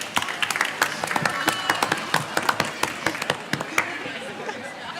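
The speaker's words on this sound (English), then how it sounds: "Give a round of applause for her." A small audience at a Form Six college claps for a school principal, with sharp, scattered hand claps at an uneven pace over five seconds.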